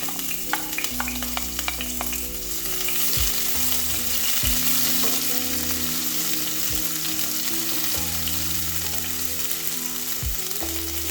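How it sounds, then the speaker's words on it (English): Onions dropped into hot cooking oil in a dry pan for one-pot rice and beans, a loud close sizzle and crackle with occasional scraping and clinks, continuous with no voices. "Then once that is also hot, I'll go in with my onions."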